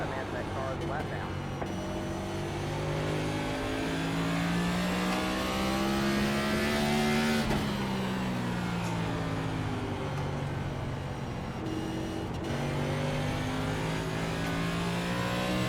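An ARCA or NASCAR race car in iRacing holds full throttle, its engine droning loud and steady with rising pitch sweeps and a brief lift and gear change midway, while a commentator talks over it.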